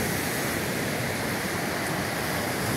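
Large waves break near the shore in a steady, loud wash of surf, a continuous roar with no voices.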